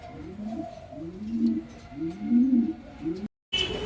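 Pair of black Lakka pigeons cooing in a close, repeating series of soft low rolling coos, with a brief silent gap near the end before the calls resume.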